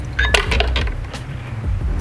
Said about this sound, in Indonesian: Situ aku tambahin sedikit es batu di sini biar lebih